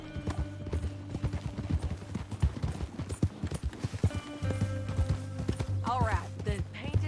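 Horse hooves clip-clop in rapid, uneven beats in the Western video game Red Dead Redemption 2, close and clear, with a brief whinny near the end and a few words spoken over the ride.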